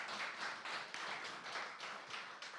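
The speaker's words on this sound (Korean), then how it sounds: "우리 다시 한번 박수 다시 한번" Audience claps at a Korean forum on the Jeju 4.3 special act, a quiet, rhythmic run of hand claps in regular bursts, fairly faint and with no talk over it.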